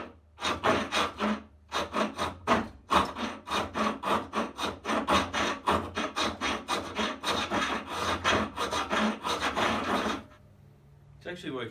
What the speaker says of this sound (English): I'm just going to need to use the file a little bit more just to shear off some of this inside